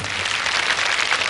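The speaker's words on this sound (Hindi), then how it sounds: "ताली मत बजाओ" Audience at a Sant Shri Asharamji Bapu satsang during the 2013 Maha Kumbh in Prayagraj claps together, a dense, steady wash of applause that fills the whole short moment without any voices.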